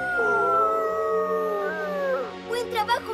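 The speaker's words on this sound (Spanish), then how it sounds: "¡Eso suena como otro lobo!" A cartoon wolf howls in long, wavering tones, rising and falling over about three seconds, loud and close, with a few sharper yelping bursts near the end and voice-like overtones.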